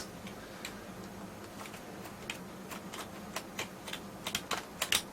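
Keys on an IBM PS1 computer keyboard click in scattered single presses that quicken into a faster burst at the end, crisp and close in a quiet room.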